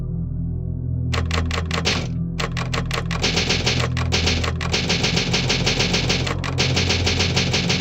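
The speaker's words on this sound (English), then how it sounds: "Good lord, that typewriter sound effect was loud." Loud, rapid typewriter keystrokes from a video game, a dense run of sharp mechanical clacks with brief pauses, dominating the soundtrack with a steady game background beneath.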